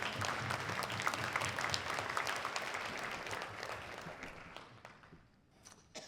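An audience at a television cast family reunion event applauds in a dense, sustained burst of clapping that fades out toward the end, with scattered voices.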